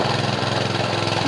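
Small engine of a Quick mini hand tractor running steadily, a loud close rattling putter with a constant fast chugging rhythm and no talk over it.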